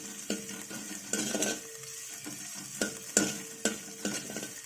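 Green beans frying in a little oil for fried Maggi noodles, with a steady sizzle and irregular scraping stirs of a spatula against the pan, clear and close, no talking.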